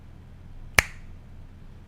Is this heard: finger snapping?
yes